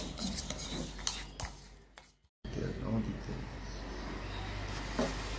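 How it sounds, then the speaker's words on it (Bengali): A metal spoon stirs dalgona coffee with a few spoonfuls of hot water in a cup, giving a steady close scraping, rubbing rasp with a brief silent break midway, under faint background noise. "1 চামচ, 2 চামচ, 3 চামচ গরম জল নিয়ে নিয়েছি। এবার এটাকে আমরা সুন্দর করে মিক্স করব।"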